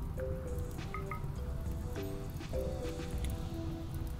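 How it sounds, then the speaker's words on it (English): Steady rain falls in the Rimworld colony sim, a dense, even patter of drips across the whole stretch, with soft game music tones playing over it. "here's the rain anyways"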